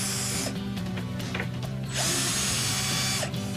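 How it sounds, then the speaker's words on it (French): A cordless drill-driver set to reverse whirs loudly and steadily while it backs screws out of a shelf, its motor pitch rising and falling through two long runs. "Alors c'est une visseuse dévisseuse. Donc là, tu es en position dévissage. Donc on commence à dévisser."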